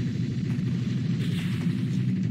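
A cannon fires in a retro-style video game, a dense, loud boom that rolls on as a low rumbling roar for a couple of seconds with no talk over it.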